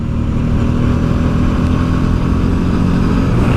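A Kawasaki GTR motorcycle engine pulls hard in race mode, a steady loud drone with rising harmonic tones heard up close over constant wind rush.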